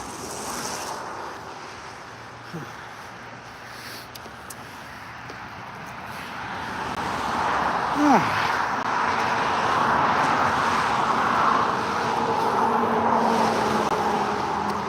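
Steady traffic roar from cars passing on a highway near the Deschutes River, heard from a distance as a continuous wash that swells in the second half, with wind noise and no talking.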